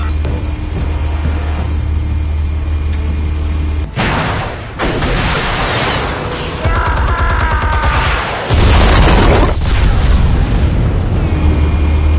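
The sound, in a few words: explosion of armed explosives in Batman Telltale video game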